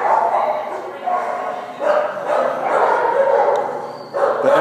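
Dogs bark and yip at an animal shelter, several of them in repeated bursts over a continuous background din, with people talking nearby.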